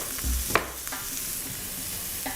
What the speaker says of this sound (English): Immediately you're going to hear that sizzle.